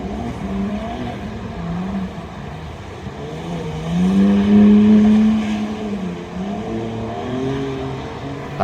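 A BMW car slides through oversteer on a driving course, its engine note rising and falling in a droning, revving hum that swells to a louder peak in the middle, heard from inside without talk.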